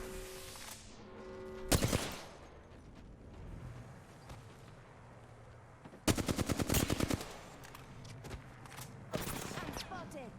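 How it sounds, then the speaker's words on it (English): Apex Legends gunfire comes in sharp automatic bursts: one short volley early, a longer rapid rattle in the middle, then another burst near the end, with quieter game ambience in between. "I'm getting shot at"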